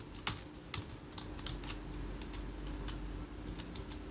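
Computer keyboard keys tapped while entering a PAN number on a login page, a steady run of close, crisp clicks with a few sharper strokes near the start, with no talking.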